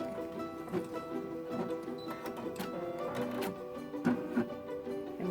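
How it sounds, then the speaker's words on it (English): A sewing machine runs a straight stitch through fabric on a zipper pouch panel, a quiet, continuous mechanical whir with needle clicks and a few louder knocks near the end. "This is the straight stitch that's going to stitch this fabric down on the top of the panel."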